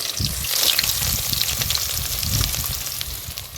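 Onions and ginger fry for tomato pulao, a close, continuous sizzling crackle with occasional stirring scrapes swelling and easing, with no talk.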